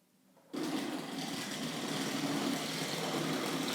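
A Hornby Class 31 model locomotive with an older motor starting up after a quiet moment, then running with a steady buzzing half-wave hum, close and continuous without speech.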